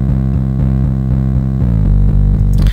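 Distorted guitar sample from a sample pack layered with an added bass line in a beat, loud and dense with rhythmic low pulses and a downward slide near the end before cutting off.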